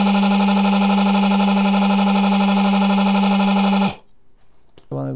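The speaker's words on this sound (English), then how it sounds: "Now the motor has power" Small DC motor on a forward/reverse controller runs with a loud, steady electric hum and whine for about four seconds, then stops abruptly, followed by a quiet pause and a short burst of voice at the end.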